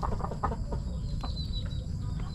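Chickens in a backyard coop making soft clucking calls, several short irregular clucks over a low background rumble, fairly close and without talk.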